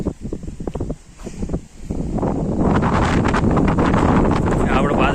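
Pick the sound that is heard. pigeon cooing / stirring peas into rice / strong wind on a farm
strong wind on a farm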